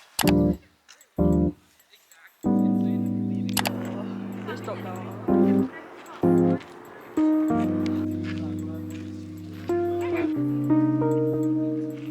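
A dog barks in sharp bursts, then breaks into drawn-out whimpering whines and yelps, loud and close, with short pauses between the cries.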